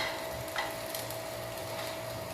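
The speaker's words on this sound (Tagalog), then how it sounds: "Hintayin lang natin na maluto yung itlog" An egg frying in a small pan, a steady soft sizzle that holds evenly throughout, with a faint scrape or tap partway through and no voices.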